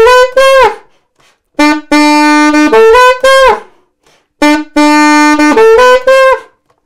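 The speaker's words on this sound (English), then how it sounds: "The main riff, the saxophone riff. Just have a listen." Saxophone playing the main riff of a song at a slower tempo, loud and close, in two phrases of short repeated notes and a sustained tone, with a brief pause between them.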